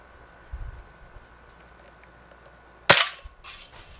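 A vintage Crosman 760 air rifle fires a single sharp, loud crack, followed by a brief rattling tail. Quiet handling sounds come before it.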